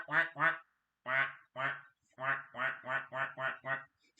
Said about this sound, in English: I actually got the little StreamYard duck plushie.